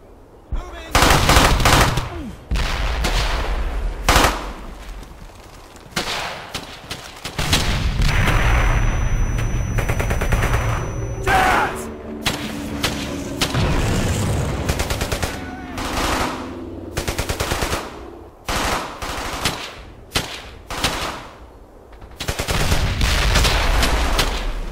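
Rapid machine-gun bursts and rifle fire crackle through a World War II shooter battle in Brothers in Arms, loud and almost constant, with low booms and shouted voices mixed in.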